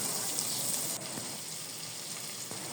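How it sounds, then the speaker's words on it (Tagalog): Onion and garlic sautéing in oil and butter in a pan, a soft steady sizzle and crackle throughout, quiet and close. "At igisa na natin ang sibuyas at bawang."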